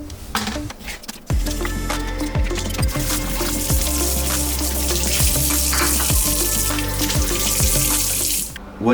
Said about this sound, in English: we're just gonna scrape them out and rinse all the sand and grit out